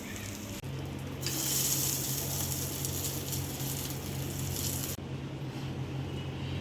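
Mustard seeds and asafoetida sizzle steadily in hot cooking oil as a tempering for drumstick-leaf adai, a loud continuous frying hiss that swells briefly and then settles, with no voices.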